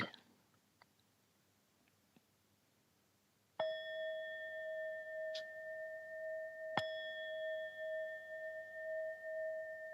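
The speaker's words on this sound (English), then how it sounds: "I'm going to ring the bell and invite you into a very brief guided breathing meditation" A meditation bell is struck once and rings out with a clear, sustained, shimmering tone, then is struck again while it still resonates, after a few seconds of near silence with faint clicks.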